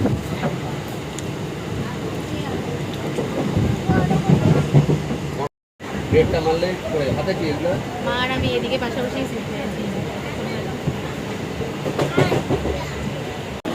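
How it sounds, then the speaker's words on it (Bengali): A train pulls into Sealdah station in Kolkata, its steady rumble and clatter filling the clip from start to finish, with voices talking over the noise. "আমরা এখন শিয়ালদায় নেমে গেছি এই ট্রেন পৌঁছালো"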